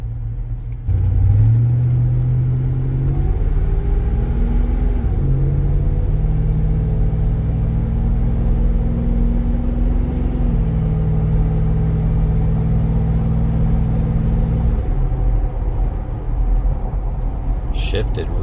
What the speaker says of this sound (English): And then you do have a belt squeal, so you might hear that.